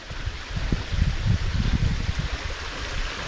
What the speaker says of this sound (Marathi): हे बघा, पाण्याचा आवाज आहे.